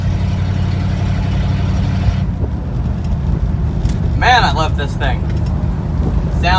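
An old Nebraska farm truck's engine rumbles steadily at idle, close and loud, with a voice talking over the running motor partway through.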